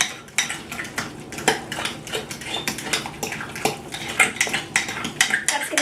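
Guacamole is mixed with salt in a bowl, producing a busy run of close clinks, scrapes and taps of a utensil against the bowl, loud and fairly rhythmic, with no voices.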